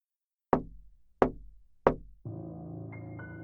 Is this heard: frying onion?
no